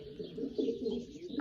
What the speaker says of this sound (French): ça fait toujours plaisir d'avoir des beaux pigeons